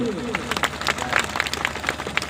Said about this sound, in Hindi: इसके लिए एक बार जोर शोर कर ताली बजा दीजिए